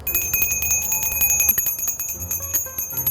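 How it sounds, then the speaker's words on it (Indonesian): A small bell rings rapidly and repeatedly, bright metallic strikes in quick succession, loud and close with no talking. "Suara lonceng."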